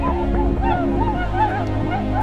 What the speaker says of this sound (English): Thousands of birds fly together, floating out of the sky.